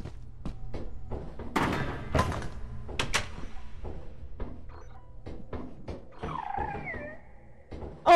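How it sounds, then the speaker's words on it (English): A cat meows in a heavily modded game of Lethal Company, a short wavering cry arriving after a run of scattered thumps and clattering footsteps. "That's a cat!"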